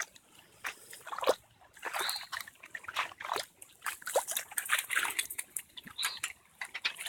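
Rainwater trickling and sloshing across a flooded driveway after five hours of heavy rain, a faint, irregular gurgling flow with splashy bursts close by.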